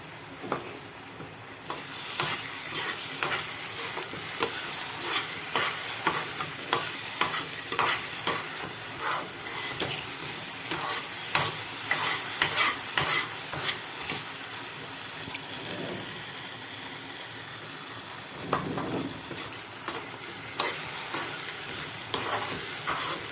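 Yellow pumpkin halwa sizzles in ghee in a pan while a spoon scrapes and stirs it repeatedly, giving a continuous frying hiss broken by rhythmic scraping strokes, close up and with no voices.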